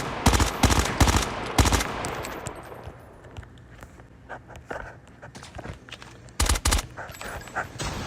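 MX9 submachine gun fire in a first-person shooter: loud sharp bursts of rapid shots at the start, then quieter scattered shots and distant gunfire, and a final close burst near the end.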